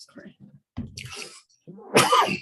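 A single sharp sneeze cuts through a public utility hearing, close and fairly loud, with a person speaking briefly just before it.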